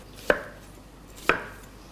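A knife chops twice on a cutting board, two crisp, separate thuds about a second apart, close and otherwise quiet.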